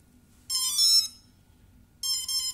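Electronic speed controller on a multirotor, from HobbyKing, HobbyPower or HobbySky, beeping after its battery is plugged in at full throttle during calibration: two clean electronic tone bursts about half a second long and 1.5 seconds apart, alone over faint background hum.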